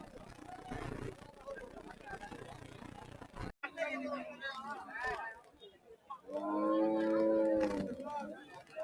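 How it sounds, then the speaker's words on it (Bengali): Cattle at a busy pre-Eid livestock market, including thin, bony cows, low mooing rising clearly over a crowd's chatter and voices, with one long, loud moo standing out late in the scene. "কয়টা আজকে গরু আনছি দশটা"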